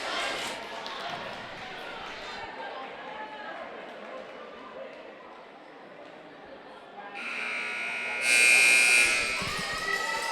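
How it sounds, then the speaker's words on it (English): A loud electronic buzzer blares near the end in a gym during a varsity volleyball match, over a background of crowd murmur, squeaks and voices. "That buzzer's really loud."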